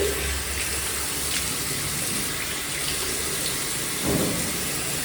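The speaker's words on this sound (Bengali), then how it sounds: "এখন আমি একটু মুখটা ধুই" Tap water runs steadily into a sink while someone washes their face, a continuous close splashing rush with a brief louder gush near the end.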